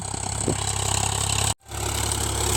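A steady Indofarm tractor engine idles with a low, even rumble, briefly cutting out for a moment before resuming at the same level.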